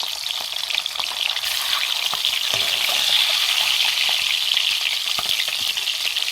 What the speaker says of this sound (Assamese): এতিয়া মই কণীকেইটা ইয়াত ফ্ৰাই কৰি লওঁ।